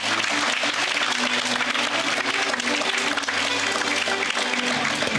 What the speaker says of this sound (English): Guys, keep on clapping.